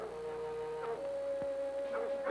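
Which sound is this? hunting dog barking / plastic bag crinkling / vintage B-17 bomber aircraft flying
hunting dog barking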